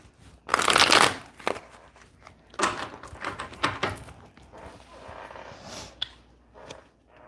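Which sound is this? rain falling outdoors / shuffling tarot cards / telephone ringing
shuffling tarot cards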